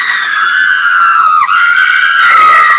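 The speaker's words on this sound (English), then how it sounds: "Ooh, we got some screaming going there." Two women scream in a sound effect, a loud, sustained high-pitched shriek that wavers and dips briefly before continuing, with the second voice rising into a harsher, noisier cry near the end.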